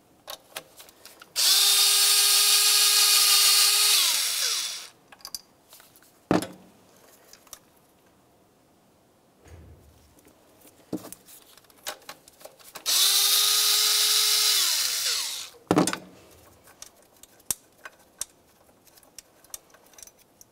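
A power tool drills out the two 10mm bolts holding the intake bracket on a 1998-2002 Lincoln Navigator during EGR valve replacement. It makes two loud whirring bursts of a few seconds each, with clanks and ticks of parts being handled between them.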